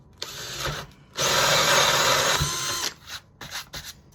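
A power drill whirs into a wooden cigar box guitar body, cutting a sound hole in short bursts, then one long steady run of about two seconds, followed by a few brief stuttering pulses.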